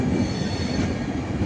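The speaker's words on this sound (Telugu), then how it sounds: "Tirupati to Nanded super fast express." The Tirupati–Nanded Superfast Express pulls into Karimnagar railway station with a close, continuous rumble of wagons and squealing wheels on the rails, and no voices.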